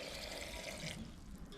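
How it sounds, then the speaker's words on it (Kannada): Water pours into a mixer grinder jar of masala ingredients for egg masala, a soft, steady trickle lasting about a second that thins out toward the end, quiet and close, with no talk. "ನೀರು ಹಾಕಿ"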